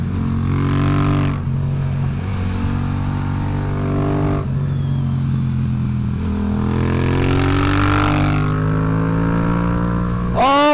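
A Porsche GT4 RS sports car engine droning loudly and steadily with rising and falling pitch as it drives, with gear changes and a sharp rev near the end.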